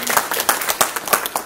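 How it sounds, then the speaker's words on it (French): An audience at a business forum in Algiers claps for a speaker, close and fairly loud, with a quick run of sharp, uneven hand claps that are still in full swing throughout. "On l'applaudit."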